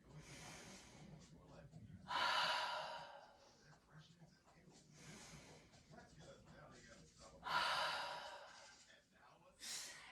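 Deep breaths drawn in and let out during a seated chair neck stretch, several long, soft airy inhales and exhales rising and falling over a quiet room, close and fairly faint.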